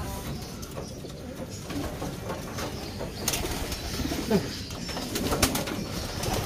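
A homing pigeon coos and flutters amid steady outdoor background noise, with a few louder bird sounds and possible wing flaps toward the end.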